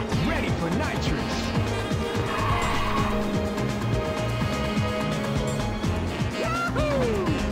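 A car drifting in the Ridge Racer racing game on PSP, tires squealing in rising and falling sweeps over a loud continuous engine drone, with a sharp skid near the end.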